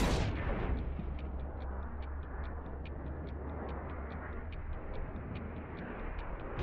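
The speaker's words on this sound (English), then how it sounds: "The explosion was probably caused by a gas pocket, very common in old mines." A mine blast in the Deliver at All Costs video game hits hard at the very start, then thins into a lingering rumble with a steady, evenly spaced ticking running throughout.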